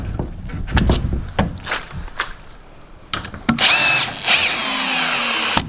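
A power drill runs during 2x4 framing work, first as short bursts mixed with knocks and clatter, then as a steady, loud, high whine for the last couple of seconds.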